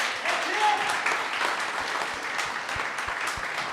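An audience applauds the candidates at an election event, giving a dense, fairly loud stretch of clapping that thins toward the end, with voices mixed in.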